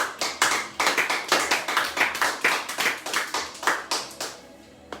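An audience in a French-language Congolese gathering claps in unison, a steady rhythmic series of loud, close hand claps that slows and fades toward the end, with no talking.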